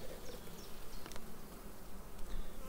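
Honey bees buzz around an open hive during a frame inspection, a steady faint hum with a few brief louder passes close by, and no voices.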